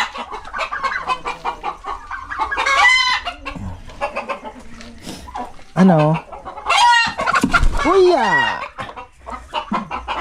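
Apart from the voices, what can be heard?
turkeys clucking on a farm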